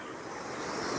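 Fast-flowing river water rushing steadily, a loud, dense, continuous wash of noise close by, with no break across the short moment.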